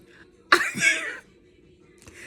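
One sudden, harsh cough bursts out close up, followed by a rasping exhale, then near silence with a faint throat sound at the end.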